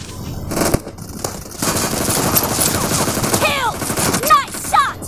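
Automatic gunfire in the PUBG video game comes in loud, rapid bursts and single cracks, with some voice sounds mixed in.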